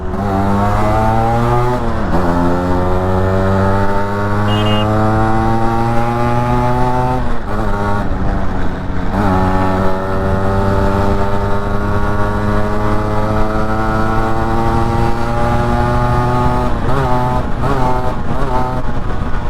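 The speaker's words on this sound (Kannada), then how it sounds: "ಇಷ್ಟು ಸೌಂಡ್ ಇರೋ ಗಾಡಿ ನಾನು ಯಾವತ್ತೂ ಓನ್ ಮಾಡಿರಲಿಲ್ಲ" A Yamaha RX two-stroke motorcycle revs loudly and close, the engine note rising and falling in repeated throttle blips over about twenty seconds with no voices.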